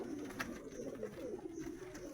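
High-flying pigeons in a cage cooing softly, low, throaty coos heard faintly and nearby for a couple of seconds.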